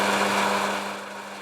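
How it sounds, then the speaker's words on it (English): A Myford lathe's milling attachment skims a base plate, a steady close motor whine with a constant tonal hum that fades slightly toward the end. "I'm going to attempt to machine the base plate on the puny little milling attachment"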